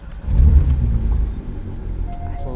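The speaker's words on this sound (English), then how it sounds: "Now let's start the car up." A 2015 Porsche 911 GT3 (991.1) flat-six fires up nearby with a quick crank and a loud throaty rev, then drops into a rumbling idle.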